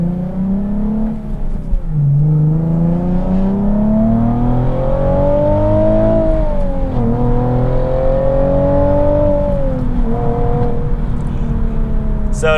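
A Nissan 370Z Nismo with an AAM resonated short tail exhaust gives a loud, deep, beefy exhaust drone that climbs and falls through several rev swells, close and continuous, with no talk over it.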